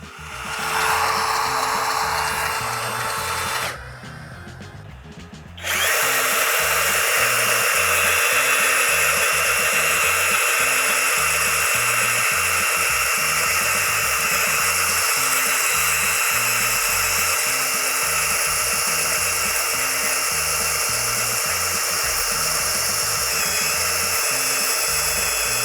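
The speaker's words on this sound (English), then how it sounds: "And it's still running. So, compact bandsaw, win." A Flex 24V compact bandsaw running on a battery adapter gives a loud, steady close whine. It dips briefly near the start, then holds a constant pitch to the end with no talking.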